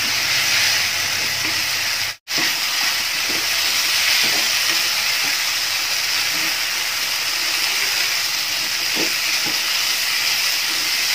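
Chicken 65 sizzles and fries in masala in a pan, a loud, steady hiss with occasional pops and faint stirring scrapes, close up and continuous, with no one speaking.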